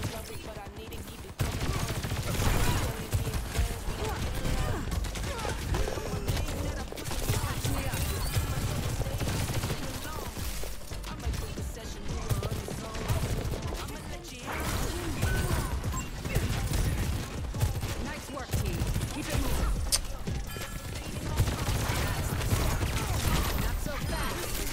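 Charged shots from Sojourn's weapon in the video game Overwatch, rapid bursts of gunfire with mechanical clicks and crashes layered over game music, continuous and loud, with a player talking excitedly throughout.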